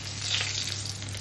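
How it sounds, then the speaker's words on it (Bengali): Fish curry gravy with fried rohu bubbles in a pan, a steady close hiss and sizzle with a low hum beneath, continuous and fairly loud with no voices. "ঝোল ফুটছে"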